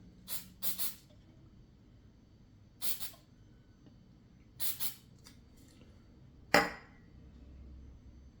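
Short sprays of activator onto a glued part of a Flywing FW206-R model helicopter, several brief paired hissing bursts spaced apart against a quiet background, with a sharper louder burst near the end.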